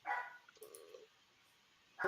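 A dog barks a few times in short sharp bursts at the start and end, moderately close, separated by a brief quiet stretch with a faint whine.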